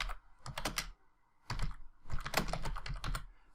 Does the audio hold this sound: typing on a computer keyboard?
yes